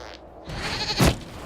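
A goat in Dragon Age: Inquisition gives a single close bleat, rising briefly over quiet in-game ambience. No one speaks during it.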